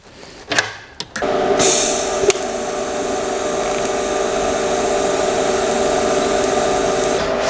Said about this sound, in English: let's get this in the vise here and we'll get it welded